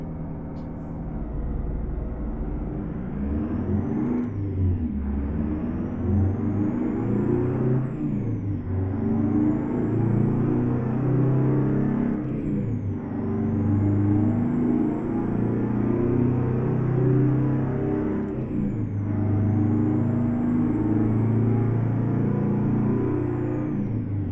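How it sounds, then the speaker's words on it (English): An International 9800 CabOver truck engine in American Truck Simulator idles at 600 RPM, a steady low hum droning on without a break, with a faint high whine rising and falling now and then above it. "It's weird how it's idling at 600 RPM"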